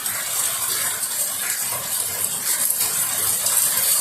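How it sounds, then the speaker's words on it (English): Rainwater gushes through a house gutter in Florida during a storm, a loud, unbroken rushing wash that stays even throughout with no talking. "I want that gutter to flow this way"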